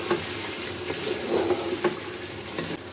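Chicken and potato khichuri made with three kinds of dal cooks in a covered pot, giving a steady, close sizzling hiss with small crackles and bubbling pops and no voices.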